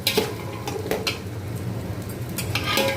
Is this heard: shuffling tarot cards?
no